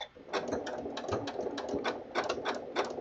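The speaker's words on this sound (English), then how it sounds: "let me just go the zigzag stitch here" A Janome MC9450 sewing machine sews a zigzag stitch, giving close, quick bursts of rhythmic needle clatter with short pauses between runs.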